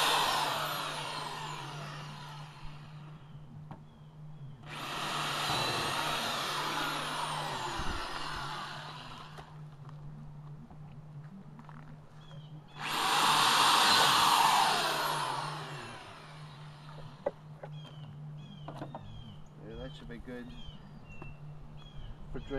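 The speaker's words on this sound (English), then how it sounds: "But I'm going to drill my holes in there." A power drill bores drainage holes in a plastic barrel for a hugelkultur bed, heard as two loud, sustained whining bursts of several seconds each over a steady low hum, close by.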